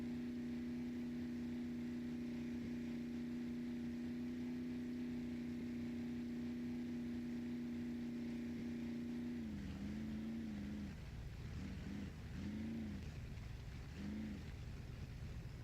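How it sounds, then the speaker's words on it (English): Truck engine in the off-road driving game Spintires MudRunner, a steady loud drone at constant pitch that dips and wavers near the end as the engine labours toward stalling. "we're going to stall the engine out here"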